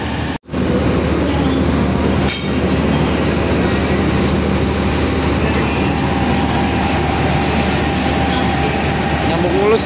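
CC 206 locomotive coupling onto the Ranggajati economy passenger train at a station: a steady loud rumble of idling engine and rail machinery, with a brief dip near the start and faint talk beneath.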